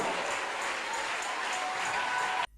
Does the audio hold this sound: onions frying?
no